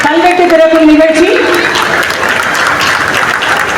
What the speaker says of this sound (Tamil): ஒரு அரங்கம் நிறைந்த கைத்தட்டலை கொடுப்போமாக.